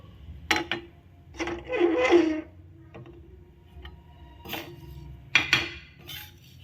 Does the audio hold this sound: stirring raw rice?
yes